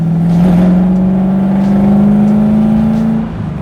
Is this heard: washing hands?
no